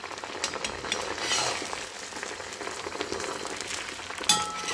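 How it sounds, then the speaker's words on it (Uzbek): Meat fries in a pot with a steady, soft sizzle and crackle, plus a brief metallic clink near the end, heard alone at low volume. "Va go'shtni qovurilishini kutamiz."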